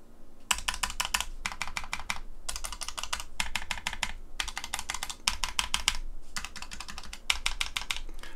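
Lofree Kailh Phantom low-profile linear switches with Punk Workshop keycaps pressed on an all-button game controller, rapid bursts of crisp clicky clacks in repeated groups, close and clear, with no talking.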